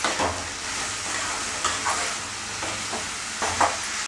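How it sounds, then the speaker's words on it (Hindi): A spoon stirs a spiced pakoda curry mixture with salt in a pan, giving soft scraping strokes and a few clinks over a steady low sizzle, close and alone without talk. "अब हम इसमें नमक ऐड करेंगे एक चम्मच, और इन सबको अच्छे से मिला देंगे ताकि सब मसाले अच्छे से कोट हो जाए"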